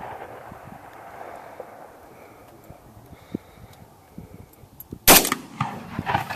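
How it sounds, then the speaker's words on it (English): A single loud gunshot from a newly bought gun cracks out near the end, close and sharp, over outdoor wind noise and light handling sounds. "I want to shoot it."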